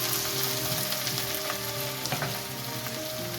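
Onions and celery sizzling steadily in a pan, a constant crackling fry with a few brief pops, moderately loud and close, with no talking.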